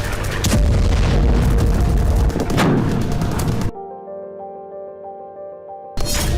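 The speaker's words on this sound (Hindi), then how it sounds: "30 घंटे से पाकिस्तानी सेना पर रॉकेट, तोप और मोर्टार से विध्वंसक हमले हो रहे हैं।" Rocket, artillery and mortar fire on the Pakistan–Afghanistan border roars in loud, overlapping booms for several seconds. It then gives way to a steady tonal passage before another burst of firing returns at the end.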